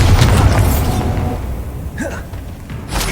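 Repeated Confringo and Bombarda spell blasts in Hogwarts Legacy, heavy booming bursts with rumbling low end that come close together, loud and near, with a voice speaking over the explosions.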